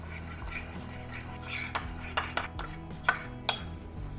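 A spoon clinks against a bowl while mayonnaise, mustard sauce and tomato sauce are mixed together, with a few sharp taps and soft wet stirring, close up and fairly quiet.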